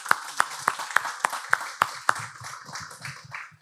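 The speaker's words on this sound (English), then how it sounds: "Please give them a warm applause." Sparse applause from a small audience at a fintech summit panel, with about eight distinct claps in an uneven rhythm fading into softer scattered clapping, moderately close in a quiet room.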